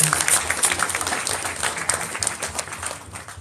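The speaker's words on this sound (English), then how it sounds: "So a round of applause for all the panelists that volunteered their time to entertain and educate" Convention attendees at a closing ceremony applaud the panelists with a steady roomful of clapping of moderate loudness, sounding a little distant and slowly tapering off.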